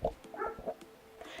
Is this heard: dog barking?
yes